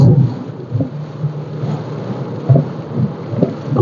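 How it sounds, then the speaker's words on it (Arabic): Heavy rain in Tihama, Yemen, a steady close downpour with low rumbling thunder rolling underneath and several dull thumps spread through. "أمطار غزيرة"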